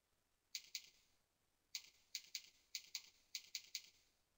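Keys tapped on a computer keyboard while a web address is entered into a browser, heard as quiet, crisp clicks in short irregular bursts of two to four strokes separated by pauses, with no voices.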